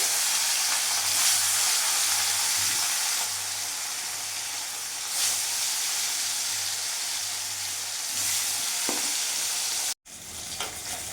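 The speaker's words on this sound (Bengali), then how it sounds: "এপিট ওপিট করে মাছগুলো আমি ভেজে নিয়েছি লাল লাল করে" Katla fish pieces frying in hot refined oil, a continuous loud crackling sizzle with occasional stirring clatter and a low steady hum, briefly broken near the end.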